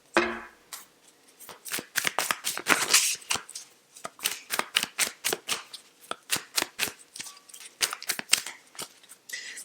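Tarot cards are shuffled and drawn from a deck in a rapid run of crisp, close riffling flicks and slaps that continue steadily for several seconds, with no voice.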